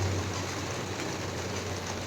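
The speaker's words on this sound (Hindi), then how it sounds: "काफ़ी ज़्यादा बारिश हो रही है" Heavy rain pours down steadily on an evening of Garba celebrations, a dense, even hiss with a low hum underneath, continuous and close, with no voices.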